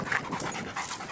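A dog pants quickly and steadily while playing fetch with a tennis ball. The breathy rhythm is close and continuous over a short stretch, with no talking.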